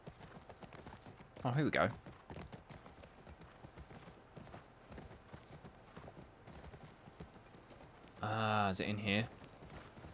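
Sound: horse hooves walking in video game The Last of Us Part II

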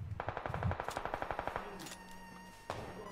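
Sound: gunfire in video game PUBG Lite

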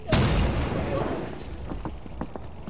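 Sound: explosion in a video game

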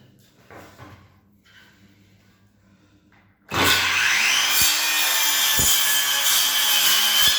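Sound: Dnipro-M DSC-200BC cordless circular saw cutting a wooden board

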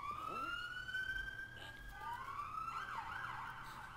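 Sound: police car sirens passing outside

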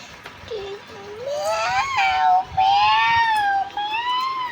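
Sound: cat meowing

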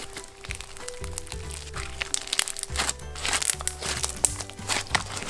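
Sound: crunchy slime being squished

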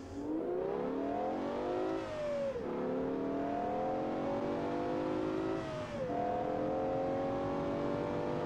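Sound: naturally aspirated 7.5 liter V12 car engine, BeamNG video game

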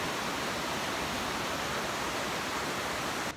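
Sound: river flowing after heavy rain

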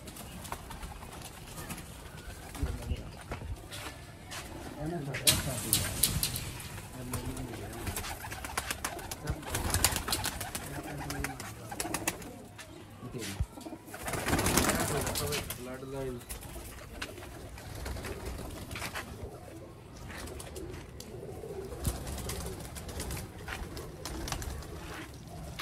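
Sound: rare Sialkoti pigeons cooing

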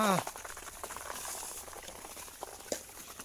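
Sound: water poured from a bucket

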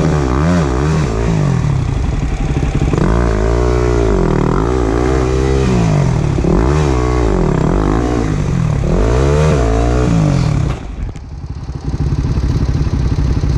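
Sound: engine revving on a trail

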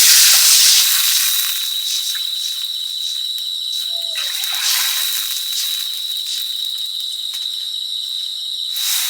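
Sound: water added to fried lentils in hot pan

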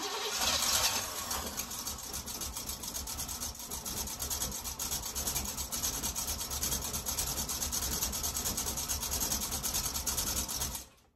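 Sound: spacer rubbing on engine flywheel

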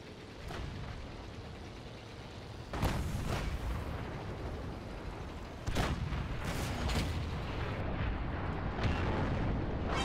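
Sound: tank gun firing in the video game World of Tanks

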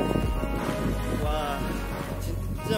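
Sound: wind blowing outdoors

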